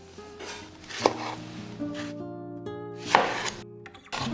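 A knife minces a ripe tomato on a cutting board in repeated close, dull chops with irregular rhythm and two sharper knocks, alone with no talk.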